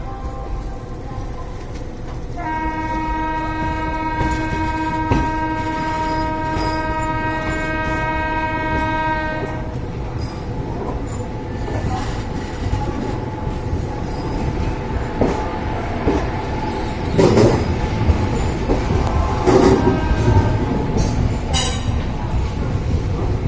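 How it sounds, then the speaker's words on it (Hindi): A train pulls into Mathura Junction at night, a long sustained horn blast sounding over the rumble of the rolling wagons, followed by clattering wheels and brief squeals as it slows, close and loud throughout. "रात के 1:45 हो रही है, और इस समय हमारी ट्रेन पहुंचने वाली है मथुरा जंक्शन पे।"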